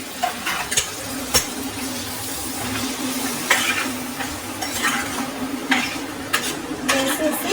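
Broad beans and tomatoes hit a pan of golden-browned onions, frying with a steady sizzle while a utensil stirs and clinks against the pan in sharp, irregular knocks.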